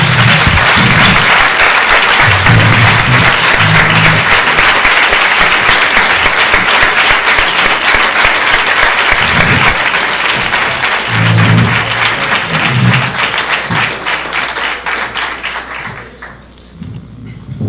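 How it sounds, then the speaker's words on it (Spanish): Loud, sustained audience applause of thanks at a university election debate in Cali, filling the hall with dense clapping and a few low thumps before fading out near the end. "yo quisiera invitarlos pues a dar un aplauso de agradecimiento a ella, como a los demás invitados"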